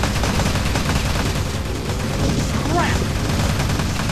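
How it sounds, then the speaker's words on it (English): Machine gun zombies firing in the Teleglitch arena game, a dense, continuous stream of gunfire and explosions that stays loud throughout, while a player shouts briefly over the noise. "Machine gun zombies!"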